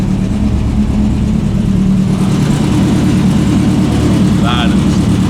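A widebody VW bus with a swapped engine rumbles loudly and steadily as it pulls away, a deep continuous drone with a faint rising whine near the end, and a voice talks over it.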